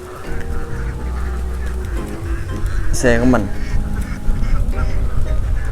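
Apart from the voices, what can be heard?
flock of ducks quacking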